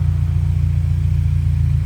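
A Ford Mustang engine fitted with a Hot Tamale turbo tube exhaust gives a loud, steady, deep rumble close by, throbbing evenly through the brief moment without any clear rise in revs.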